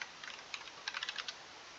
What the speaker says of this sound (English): Oh my god, I can't type.